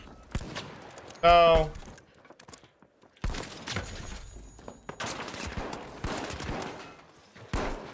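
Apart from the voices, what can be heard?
gunfire in a video game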